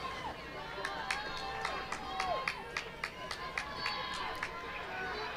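Dartmouth fans cheer and shout from the Cambridge shore at a women's club fours rowing regatta on the river, a steady crowd roar with sharp whoops and claps bursting through over several seconds, moderately distant.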